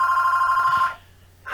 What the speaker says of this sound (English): My telephone's ringing in the background.